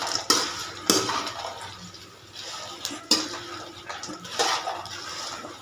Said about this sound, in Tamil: இதை நல்லா ஒரு கிளறி கிளறிக்கலாம்.